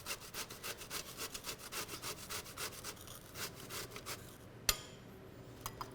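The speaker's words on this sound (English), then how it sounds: "Just give this a little grate." Zucchini rubbed against a box grater in a home kitchen makes a fast, rhythmic rasping, strokes coming steadily for several seconds, then slowing, with a small clunk near the end.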